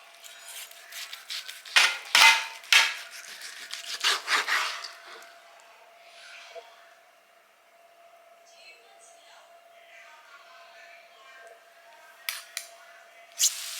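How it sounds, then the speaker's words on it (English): Knife cutting through a roast beef joint in a home kitchen, a series of sharp scraping and slicing strokes early on, then quieter faint handling with a steady electrical hum underneath, no talk. "So I just need to cut this beef."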